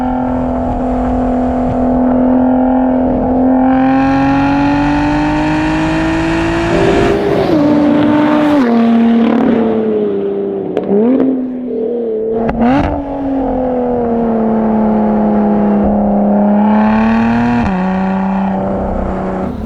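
Small 100cc go-kart-like car engine revving hard on a makeshift urban racetrack, a loud, close, buzzy note climbing and dropping through repeated throttle blips and shifts, with no talk over it.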